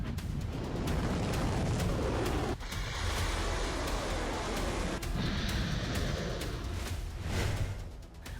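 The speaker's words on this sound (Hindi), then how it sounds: "इजराइल में ईरान की जुल्फिकार मिसाइलों के धमाके" Iranian Zulfiqar missile strikes exploding in Israel, a continuous distant roar of heavy blasts with sharp booms standing out, rumbling on and off without pause.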